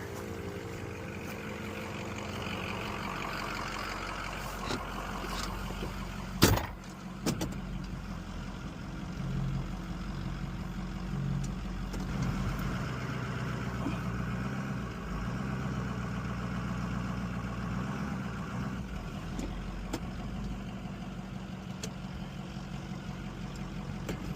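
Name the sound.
old diesel truck engine running and driving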